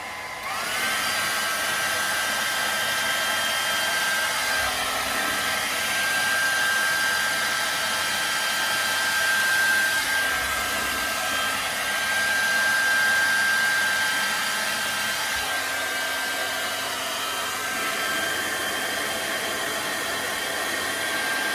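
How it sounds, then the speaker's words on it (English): A hair dryer blows continuously with a steady airy whoosh and high whine, its pitch and loudness shifting slightly as it moves. "And hairdryer at the ready."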